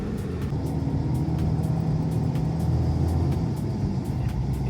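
A small 1-litre hire car labours up a steep mountain road, its engine droning in a steady low rumble that holds constant and close throughout, with no talk over it.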